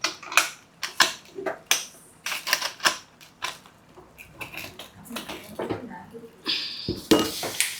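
A metal roti pan clatters and clinks while being handled in a kitchen for dum cooking of Kerala white biryani, with rapid irregular taps and scrapes close by and no talk.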